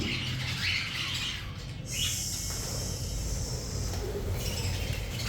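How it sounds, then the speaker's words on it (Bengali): Several budgerigars and cockatiels squawking and calling nearby, sharp cries over a steady background hum with some fluttering. "সবই উড়ে বেড়াচ্ছে এখন আমাদের পাখিগুলো"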